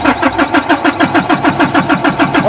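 A Nissan NV350 van's engine cranks with a fast, even pulsing rhythm, loud and close, over a short span without talk.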